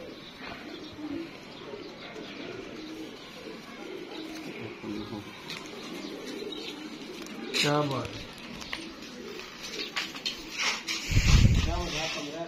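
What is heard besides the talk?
pigeons cooing in a room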